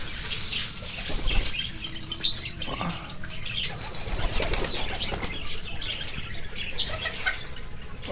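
Pigeons flap their wings in a flurry close by as they arrive to feed, with scattered soft coos and chirps amid steady outdoor background noise.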